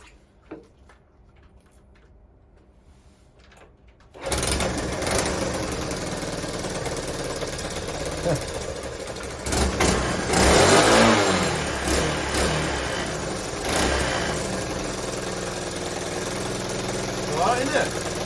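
A Honda C90 motorcycle engine fires up with choke on after quiet handling, then runs steadily and loud with a brief rev swell, close to the mic, with a voice speaking over it.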